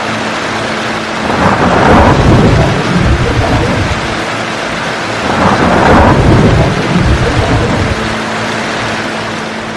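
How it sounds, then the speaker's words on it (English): Heavy rain pours steadily during a mountain thunderstorm, with two long, loud rolls of thunder rumbling through it, one near the start and another midway. "A huge storm hit the mountain with heavy rain, thunder, and lightning."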